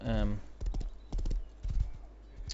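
A horse runs in the game Rust, with quick clip-clop hoofbeats in uneven bursts after a short whinny at the start, fairly close and loud with no talk over it.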